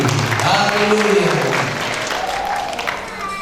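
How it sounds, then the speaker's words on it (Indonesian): A church congregation applauds during a wedding blessing ceremony, a steady full wash of clapping that eases slightly toward the end, with voices faintly audible beneath. "Tepuk tangan lagi."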